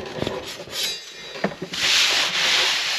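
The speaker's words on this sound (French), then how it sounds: "je dirais que ça m'énerve de poncer" Sanding during a wardrobe renovation in a house, a steady abrasive rubbing of moderate loudness that starts in short strokes and becomes a continuous hiss-like rasp, heard alone without talk.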